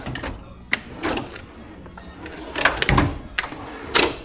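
Drawers of a secondhand all-steel tool cabinet slide open and shut, giving a run of rumbling rolls and metallic clunks at close range, with a voice partly talking in between.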